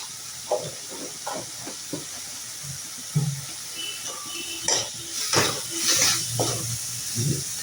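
Water poured onto frying spices and turmeric in a pan sets off a hissing sizzle that swells and fades, with scattered clanks and scrapes of a utensil against the pan.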